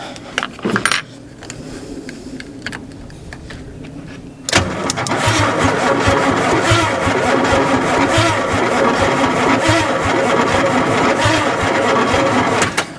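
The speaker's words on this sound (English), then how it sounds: "Let's see if this starter is going to work" The starter motor on a rusty, abandoned 1967 GMC truck cranks loudly and continuously. It follows a few clanks and quiet seconds, then grinds on steadily for about eight seconds without the engine catching.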